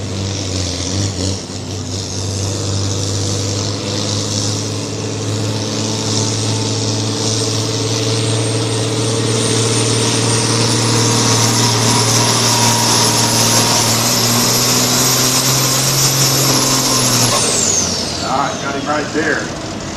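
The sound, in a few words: tractor pull engine at a fire department pull event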